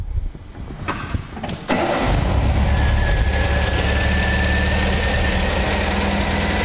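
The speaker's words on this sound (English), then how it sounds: "we can start the engine" A 1981 MGB GT engine cranks briefly with a starter whir, then catches and settles into a steady, close, rumbling idle that runs to the end, no talking.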